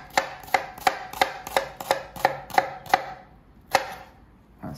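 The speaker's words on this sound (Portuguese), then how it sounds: "Vamos cortar a cebola. Corta em cubinhos." Knife chopping an ordinary onion into small cubes on a cutting board, with about ten crisp, evenly spaced chops, then a pause and one final chop, heard close and clear with no talk.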